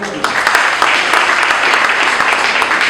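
Steady applause from a crowd standing at a civil wedding ceremony in a town hall, with dense clapping filling the room at an even level throughout and no pause.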